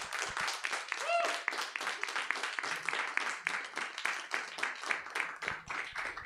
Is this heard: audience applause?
yes